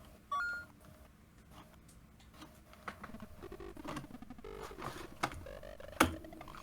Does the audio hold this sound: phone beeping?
yes